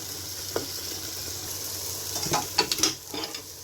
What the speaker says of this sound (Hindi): अब इसमें मैं कीमा डाल दूँगी